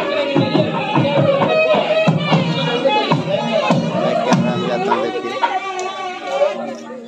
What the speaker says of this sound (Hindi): बहुत ज़्यादा भीड़ है बहुत ज़्यादा भक्तगण आए हैं दोस्तों